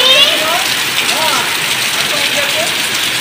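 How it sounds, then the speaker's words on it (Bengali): Heavy rain during a storm makes a loud, steady hiss close by, while faint voices rise and fall briefly in the background. "দেখুন প্রচুর বৃষ্টি।"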